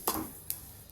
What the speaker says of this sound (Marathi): हे बघा छान असा आवाज येतोय तीळ भाजताना.